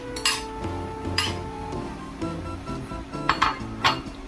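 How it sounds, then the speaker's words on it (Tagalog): Metal utensil scraping and clinking against a cooking pot while macaroni soup with cabbage, evaporated milk and quail eggs is stirred, several irregular clinks and knocks close up, with no talking. "kailangan natin ihalo palagi kasi para hindi masunog yung macaroni sa ilalim."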